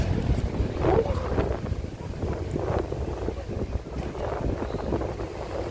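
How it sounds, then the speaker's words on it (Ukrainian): Strong storm wind by the sea in Odesa roars and buffets continuously, mixed with a broad rushing wash of surf, loud and unbroken with no clear pauses. "шторм дуже сильний"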